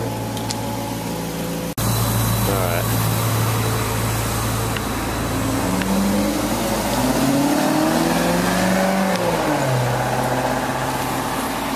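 A car engine revs and accelerates nearby, its pitch climbing and falling in sweeps over a steady low rumble, loud and continuous.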